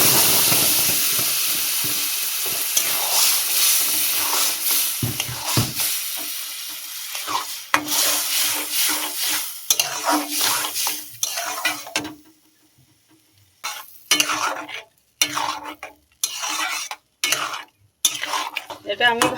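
Grated papaya sizzles in hot ghee with bay leaves in a pan, with a loud frying hiss at first that fades. Repeated scraping and stirring strokes and clinks of a spoon against the pan follow in bursts.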